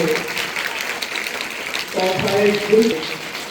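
Applause at a school ceremony greeting an arriving guest, a dense patter of many hands under a voice that speaks through much of it.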